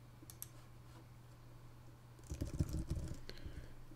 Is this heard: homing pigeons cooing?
no